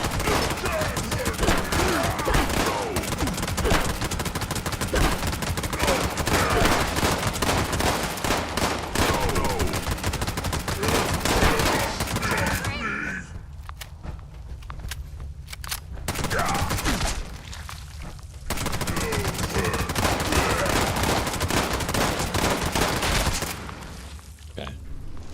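Gunfire in the video game Fallout 76 comes as dense, rapid bursts of automatic shots, loud and continuous, that break off briefly twice before resuming in sustained volleys.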